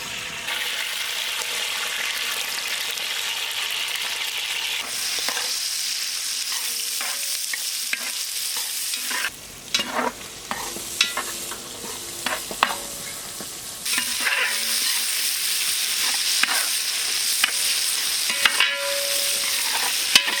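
Sliced onion hits hot oil and fries in a steady close hiss, the sizzle jumping louder midway as more goes in, broken by spatula scrapes and crackles, with no talk.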